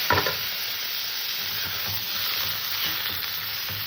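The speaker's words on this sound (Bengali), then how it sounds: "অল্প করে কটা কালো জিরে এবার ভেজে রাখা আলু আর উচ্ছেটা দিয়ে দিলাম" Fried potato and bitter gourd tipped into hot oil with nigella seeds and dried red chilli, giving a steady close hissing sizzle with a brief louder crackle at the start and soft stirring scrapes throughout.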